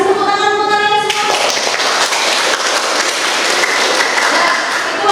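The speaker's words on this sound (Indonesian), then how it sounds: "Tepuk tangan untuk kalian semua." A classroom of students bursts into applause after a brief voice, and the dense clapping holds loud and steady to the end.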